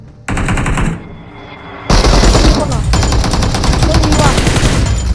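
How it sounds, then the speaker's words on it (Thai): Loud, close bursts of automatic gunfire in PUBG on the Erangel map, one short burst followed by longer continuous rattling fire that fills most of the clip. "ยิงมันไม่เข้าอ่ะ เฮ้ยิงเข้ายิงเข้าครับ"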